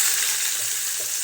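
Chopped onion sizzling in a hot pan for an everyday vegetable dish, a continuous dense hiss with faint crackles, close and steady for a brief moment.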